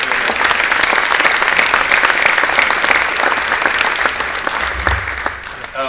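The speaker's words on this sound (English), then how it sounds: "So could we please give a round of applause for Fisher?" A crowd gives a sustained round of applause for Coach Fisher at a court unveiling, loud and steady throughout with dense overlapping claps.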